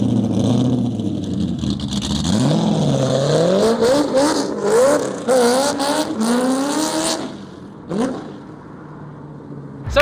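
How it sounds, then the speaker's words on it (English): A car engine revs hard in a played-back recording, the pitch sweeping up and down through repeated throttle blips and sustained high-rev pulls, loud and close, ending with a short burst after a pause. "I wanted my car to sound like this car."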